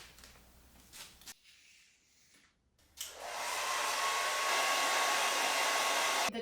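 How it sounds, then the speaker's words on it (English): A handheld hair dryer blows as a heat source over a car body panel, starting after a short quiet gap and then running as a loud, steady, close whoosh with a faint whine until the end. "The tips online said to wiggle the heat source, so in my case the hairdryer, around quite a bit so there's never any hot spots."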